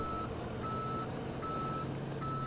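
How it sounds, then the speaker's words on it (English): Reversing beeps from a snow plow truck backing up in Farming Simulator 17, a steady evenly spaced electronic beep repeating over a continuous low truck engine drone. "We'll be backing up here, we'll be rotating this plow, and we'll be dropping it down."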